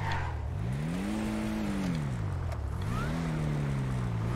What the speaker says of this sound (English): Sounds like a little supercharger whine too when I hit that gas